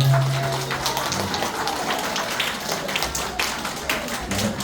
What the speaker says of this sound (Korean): 우리 서로 환영의 박수 한번 할까요?